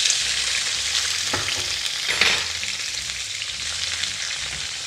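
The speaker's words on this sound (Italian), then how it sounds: "Profumato l'olio, aggiungo i pomodorini." Cherry tomatoes hit hot olive oil infused with garlic, setting off a loud, steady sizzle with a sharper burst and stirring clatter partway through, with no talking.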